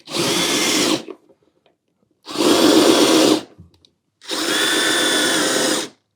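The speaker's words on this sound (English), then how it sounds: "I like to drive screws in the low setting" A Milwaukee power drill with a right-angle attachment whirs on its low setting in three sustained bursts of about a second each, driving screws, separated by short pauses, close and loud.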